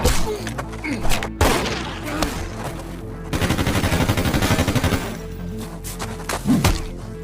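Gunfire in an action film scene comes as sharp single shots and then a rapid automatic burst, mixed with thuds and dramatic scoring at close, loud range.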